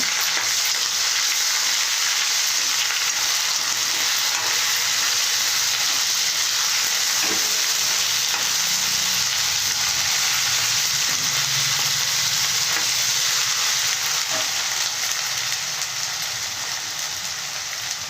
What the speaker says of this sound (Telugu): ఇప్పుడు అల్లం వెల్లుల్లి పేస్ట్ కాసేపు వేగనిద్దాం పచ్చివాసన పోయిందాక